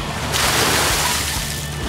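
Water sloshing and splashing around inside a pickup truck bed, a steady broadband wash that swells after a brief quieter opening and keeps churning throughout.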